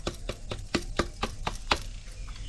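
A knife slits open a whole bell pepper on a cutting board while it is prepared for Konkani-style coconut-stuffed peppers, giving about eight sharp, evenly spaced taps, close and crisp.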